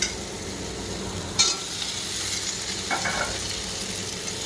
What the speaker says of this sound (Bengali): দেখো কষাচ্ছি, এদিকে আদা বাটা দিয়ে দিলাম